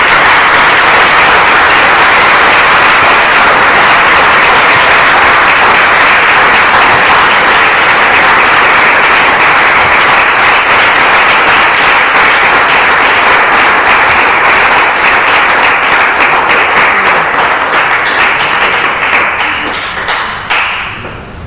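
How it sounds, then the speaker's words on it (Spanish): Church congregation applauding in praise at the close of a sermon, a loud, long burst of dense clapping that holds steady and then tapers off at the end. "Entonces le aplaudo al Señor."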